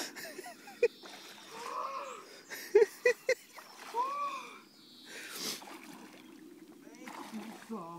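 Splashing from someone swimming in a cold river in early April, with intermittent sloshes and sharp splashes close by, mixed with voices talking and calling out over the water.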